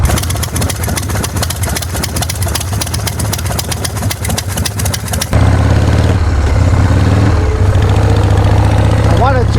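A motorcycle engine drones steadily during a New Year's Day ride, blended with wind rush, while a rider talks close over it throughout.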